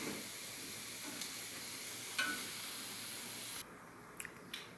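Tomato, onion and a garlic clove roasting on a hot pan give a steady, soft sizzle with a few faint ticks, dropping quieter near the end.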